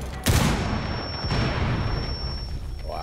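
A grenade blast in Rainbow Six Siege bursts out loud and close, followed by a rumbling, debris-filled tail that fades over about three seconds.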